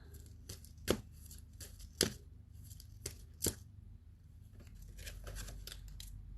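Crystal cards from an oracle deck being handled and shuffled, with several sharp card snaps and flicks standing out over soft continuous rustling, close and fairly quiet, no talking.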